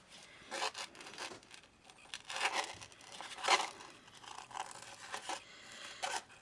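Scissors cutting a shape out of easily cut craft material, giving close, quiet snips and crinkling rustles in irregular bursts, with no talking.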